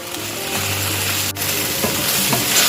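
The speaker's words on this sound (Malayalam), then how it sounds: "അപ്പം ഇനി നമുക്ക് നമ്മളെ ബീഫ് ഇടാം. ബീഫ് നന്നായി വെന്തിക്കണുണ്ടോ," Beef stirred into a pot of sizzling masala for biryani fries with a loud, steady crackle and hiss up close, briefly dipping once midway before carrying on.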